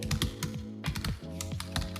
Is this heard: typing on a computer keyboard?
yes